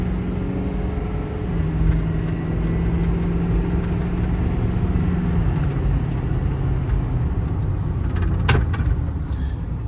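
A 2011 Ford F-550 crane truck with a 6.7 diesel and four-wheel drive cruises down a road on new tires, its engine and road noise forming a steady, loud drone with a shifting tone and brief clicks near the end.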